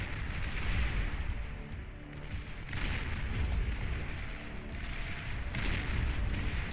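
Tzar artillery units in the strategy game Beyond All Reason firing, deep booming blasts that come as several heavy, rolling volleys over a sustained low rumble, moderately loud with no talking.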